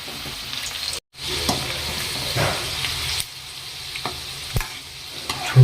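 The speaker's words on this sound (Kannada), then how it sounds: "ಚೂರು ಚೂರು ಅನ್ನತೈತೆ ನೋಡಿ ಎಣ್ಣೆ" Okra fries in hot oil, giving a loud, close, continuous crackling sizzle. The sizzle cuts out briefly near the start, then resumes with occasional sharper pops and spatters.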